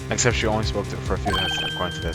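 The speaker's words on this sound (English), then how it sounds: "I heard a phone ring just now." A phone ringtone in a video game plays as a steady electronic tone in the second half, partly under someone talking throughout.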